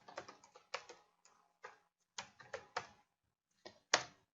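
Typing on a computer keyboard, irregular bursts of crisp key clacks with short pauses and one firmer final keystroke like an Enter press, close and clear with no talking.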